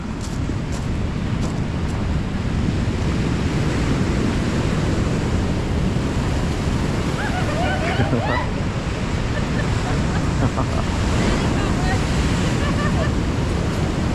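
Sea waves crash and wash off the rocks at Marsden beach, South Shields, a constant loud roar of surf buffeted by wind noise, with people talking faintly over it.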